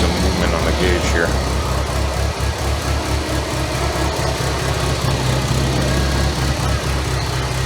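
A 1985 Merkur XR4Ti engine idles as it warms up, a steady low rumble that holds even and continuous throughout at close range.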